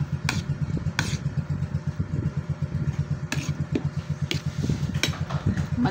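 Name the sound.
motorcycle exhaust engine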